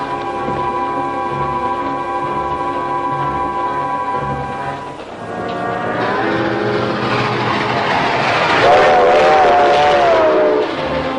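A train rumbles along steadily with a droning engine tone, then the noise swells and grows harsher as it rolls on, with squealing metallic pitches near the end.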